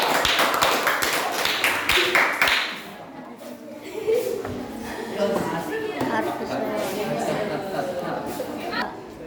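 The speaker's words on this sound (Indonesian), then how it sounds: "Tepuk tangan untuk kelompok 3." Classroom applause for a student group after a presentation in an Indonesian language lesson: a burst of brisk clapping for about two and a half seconds, then fades into students chattering.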